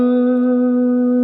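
A single sustained electric guitar note rings out with reverb and echo, the tail of a short lick played with a hammer-on and a whole-step slide in a moody style, held steady with no talking.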